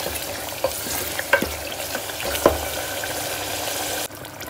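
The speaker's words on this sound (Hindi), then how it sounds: "ये देखिए गोश्त भी अच्छा भुने गया" Meat being stir-fried in a pressure cooker pot for Hyderabadi maiqalya gravy, a steady dense sizzle with a few scraping stirs of a spoon, close and continuous before cutting off abruptly.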